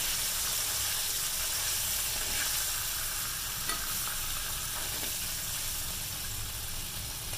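Fish frying in a pan for a tangy fish curry, a continuous dense sizzle and crackle close up, fairly steady throughout with faint scraping and no speech.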